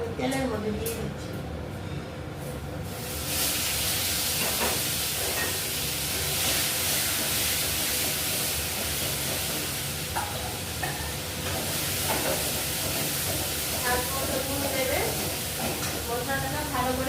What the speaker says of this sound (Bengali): তেলটার মধ্যে আমি একটু আস্ত জিরা ফোড়নে দিয়েছি, আর এই মশলাটা আমি তেলের মধ্যে দিয়ে দিচ্ছি